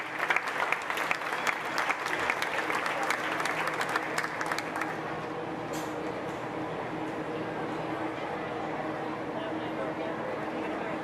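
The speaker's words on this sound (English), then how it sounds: "Give them a round of applause, please" Crowd applause for a llama showmanship class in a county show ring, brisk clapping for about five seconds that thins into a lingering room hum and distant murmur.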